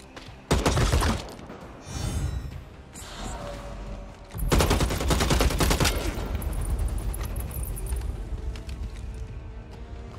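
Bursts of gunfire in the video game Bloodhunt, a loud volley near the start and a longer sustained stretch of rapid shots later, with crackling impacts and game ambience between.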